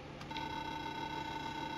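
Synthesized beeping character voice from the Friday Night Funkin rhythm game, a steady electronic tone that holds for under two seconds over a busy background, with no one speaking.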